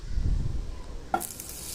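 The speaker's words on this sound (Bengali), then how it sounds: "এবার আমি গ্রেভিটা করার জন্য কড়াইতে দিয়ে দেবো অল্প একটু বাটার" Butter melting in a wok for honey chicken gravy, a low sizzling hiss with a single sharp metallic clank of a utensil against the pan.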